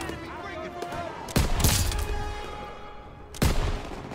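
Gunfire in the Call of Duty: WWII campaign at Operation Cobra, two sharp loud shots about two seconds apart over a rumbling battlefield backdrop, with someone speaking.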